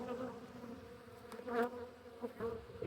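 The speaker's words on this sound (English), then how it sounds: "Oh, the bees really want me now." Angry honey bees swarming during a hive inspection, a dense, quiet buzzing hum with individual bees flying close past in brief louder swells.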